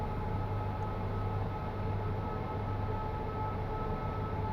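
Class 86 electric locomotive gathering speed in Train Simulator Classic on the West Coast Main Line between Stafford and Preston, a steady, continuous rolling drone with a low hum, no voices.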